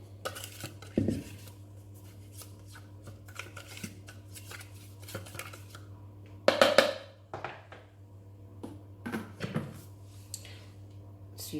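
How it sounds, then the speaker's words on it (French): A spatula scrapes the walls of a Thermomix bowl holding candied-fruit cake batter, giving a few sparse, quiet scrapes and knocks with one louder clatter partway through and no talk. "Racler les parois du bol à l'aide de la spatule."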